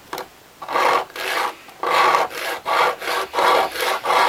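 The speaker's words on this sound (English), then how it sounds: "Sandpaper is getting a bit too worn." Worn sandpaper rubbed by hand up and down on wood while fitting new boat deck fittings makes loud, rhythmic rasping strokes, about eight close scrapes with brief pauses between, alone without talk.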